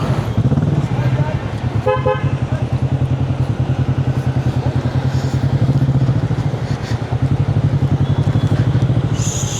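A motorcycle heads off on the highway ride from Surat to Pune, its loud, steady engine drone and wind rushing throughout, with a short horn toot early on.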